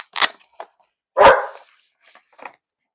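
A dog barks at a package delivery arriving in the driveway: a few sharp barks spaced over a few seconds, loud and close, with short pauses and quieter yips between them.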